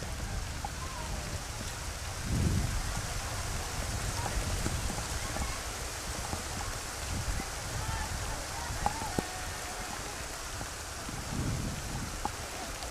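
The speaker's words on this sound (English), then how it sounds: "It is pouring buckets out here." Heavy rain pours down at an outdoor amateur soccer match, a steady broadband hiss throughout with occasional low rumbles and a few sharp drop impacts, while a commentator talks over it.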